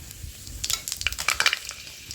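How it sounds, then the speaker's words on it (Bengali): Dried red chillies and Bengali five-spice tempering dropped into hot oil in a pan, a brief flurry of crackling pops and spits over a low sizzle, close and moderately loud. "তেলে আমি ফোড়নের জন্য শুকনো লঙ্কা আর 5 ফোড়ন দিয়ে দিই।"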